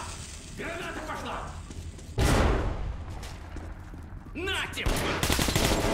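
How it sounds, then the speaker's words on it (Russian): A grenade blast and bursts of gunfire from the Metro Last Light Redux video game, with sharp loud bangs and rapid shots amid shouting voices. "Братва! Граната пошла!"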